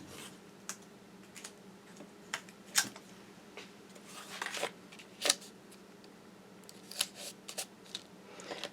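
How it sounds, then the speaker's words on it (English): Sticky tape pulled and pressed onto a handmade card embossed with a folder and sentiment strip, heard as faint scattered crisp clicks and rips over a low steady background hum. "So let me go ahead and tape this."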